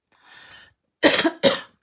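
Close, sharp coughing: a soft throaty breath-like sound first, then two loud distinct coughs in quick succession, alone without talk.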